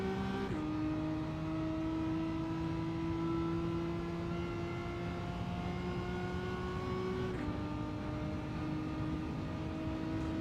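Ferrari and Porsche race cars in a racing video game, a steady high engine whine holding near and loud, with a brief gear-shift dip before the pitch climbs again.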